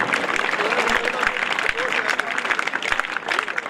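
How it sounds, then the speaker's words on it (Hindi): A crowd applauding steadily at the opening of a sports festival, dense clapping throughout with a faint murmur of voices underneath. "यूनिवर्सिटी जोरदार तालियां दी उनके लिए।"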